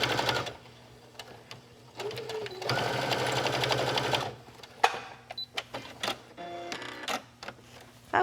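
A sewing machine stitching a cross-body bag seam, running steadily at moderate volume for a couple of seconds and then stopping, followed by scattered clicks and handling noises.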